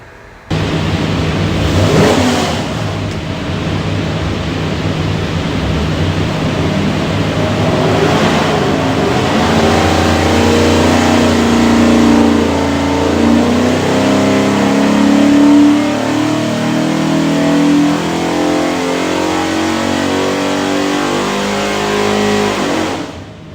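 A 428-horsepower 347 Ford stroker V8 with a hydraulic roller cam and front-sump oil pan pulls a run on a dyno, rising in pitch through a long, loud sweep before easing off near the end.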